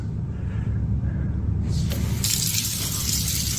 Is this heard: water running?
yes